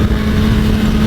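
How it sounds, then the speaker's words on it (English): A motorcycle engine drops to third gear on a downshift, a loud, steady, close engine roar lasting only a moment. "Let's do a downshift to third."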